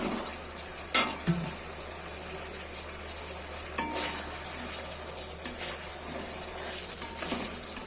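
Sarputi fish, a rohu-like carp, frying in mustard oil in a pan: a steady broad sizzle runs throughout, with a few sharp clatters near the start and scattered stirring knocks, close and fairly loud.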